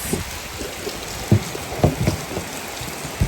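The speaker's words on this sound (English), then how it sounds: "oh, it's raining" Steady rain falling on a surface, with a constant hiss and scattered louder drops spattering close by, and no voices over it.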